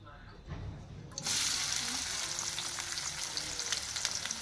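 Onions and curry leaves hit hot oil, and a sudden broad sizzle swells in and holds steady close by, with faint clicks and a soft background hum; no talking.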